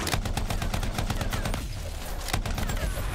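Rapid automatic gunfire rattles in dense repeated bursts from a sci-fi shooter game, briefly pausing before another volley resumes.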